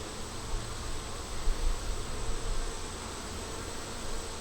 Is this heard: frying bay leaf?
no